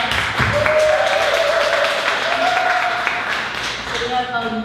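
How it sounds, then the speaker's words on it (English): Attendees at a book convention in Los Angeles give the authors a round of applause, a steady wash of clapping heard alongside a voice and some tonal background sound. "Give all these authors a round of applause"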